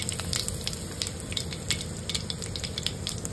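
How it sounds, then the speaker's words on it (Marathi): Cumin seeds and finely chopped curry leaves sizzle in hot oil, a steady close crackle with sharp pops and spatters scattered throughout and no voices. "जिरे टाकायचे थोडे, आणि कढीपत्ता ना बारीक करून टाकायचा थोडासा."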